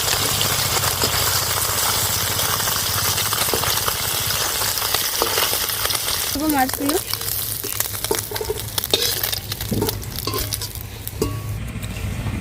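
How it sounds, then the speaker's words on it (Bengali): Small live puti fish fry in hot oil in a wok, a steady bubbling sizzle running throughout, with spatula scrapes and stirring clatter in the later part. "মাছগুলো হয়ে গেছে আর নামিয়ে নেব বাকিগুলো ভেজে নেবো ওই তেলে"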